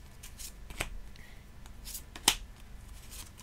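Tarot cards are shuffled for a reading, heard as soft, close riffles and flicks with a couple of sharp card snaps in a quiet room.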